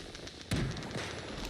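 A single firework-like explosion in the video game Once Human, one soft, muffled boom followed by a short decaying rumble, heard faintly over background game ambience.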